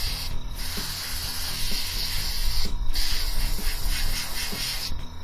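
An airbrush sprays paint onto a Tamiya 1/48 Corsair model engine, giving a continuous close hiss with brief breaks between passes and faint mechanical clicking underneath.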